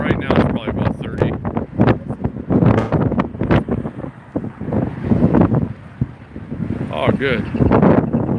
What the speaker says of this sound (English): It's much windier than it was a couple of minutes ago